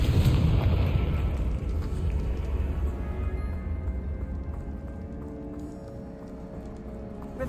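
A Confringo blasting spell in Hogwarts Legacy bursts with a loud, close boom, followed by a long rumbling roar that slowly fades over several seconds.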